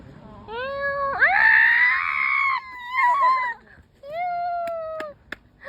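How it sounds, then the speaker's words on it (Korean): A cat gives several drawn-out, loud meows and yowls, one long wailing call followed by shorter cries, close by with faint background noise. "야옹 고양이 여기 있나 본데"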